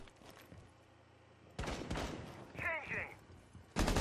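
Gunfire in Rainbow Six Siege during a tournament match, heard as short bursts of shots, one near the middle and a sharp blast at the end, around a caster's commentary.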